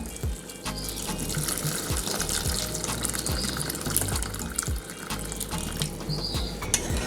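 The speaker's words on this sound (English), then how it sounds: "So I'm going to add some more water to my pot." Water pours and splashes steadily into a pot of brown stew pork, a continuous gushing rush with faint clinks, close by and without talk.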